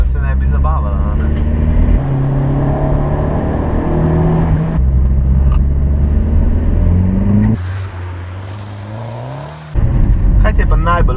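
Opel Corsa OPC hatchback, 210 horsepower, driving on a slightly wet road, its engine drone steadily rising and dropping through gear changes, loud and continuous, with a brief change in tone near the end.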